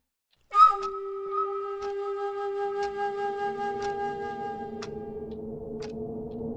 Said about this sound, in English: I suppose I should blow the whistle and find out.